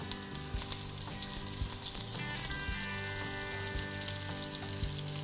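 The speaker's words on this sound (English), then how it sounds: "Just let those sizzle away till they're brown all around." Lamb meatballs sizzle steadily in hot oil, a dense crackling hiss with occasional pops, close and continuous without any voices.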